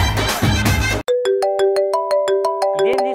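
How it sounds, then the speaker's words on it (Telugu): A phone's melodic ringtone sounds for an incoming call, a clear sequence of bright synthetic notes repeating in a steady rhythm, cutting in abruptly after a moment of other sound. "ఇదేంది శోభనం సార్ ఫోన్ చేస్తున్నాడు?"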